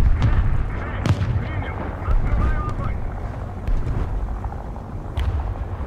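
Artillery strike in War Thunder ground realistic battle with a T-26E tank, dull booms and rumbling impacts scattered across the clip under a steady low engine drone, with someone talking over it.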